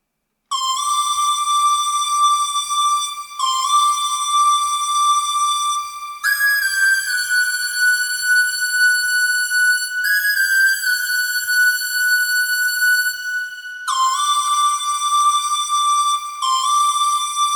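A train-whistle theme from a film score plays as a bright, clear whistle-like melody in sustained tones that step up and back down in pitch, with no other sound.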